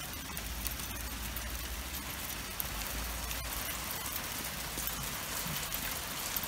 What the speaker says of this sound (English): Got a lot of hail going on right now.